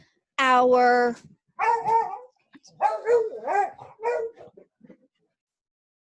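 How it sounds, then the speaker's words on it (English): Dogs bark and yelp at close range, opening with a long, high howl-like bark and followed by a string of shorter excited barks and whines before going quiet. "sorry about the barking dogs"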